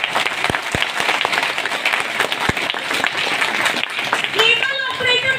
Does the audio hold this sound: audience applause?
yes